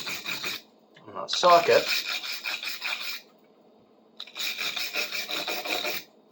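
Rust being brushed off a metal socket with a stiff brush, two loud, close bursts of dense scratchy scrubbing separated by a pause, with a brief spoken remark in between.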